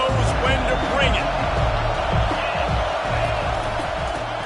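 A large football stadium crowd at a Toledo vs Alabama game roars in a steady, dense wash of cheering that stays loud throughout, with faint whoops rising above the din and a voice talking underneath.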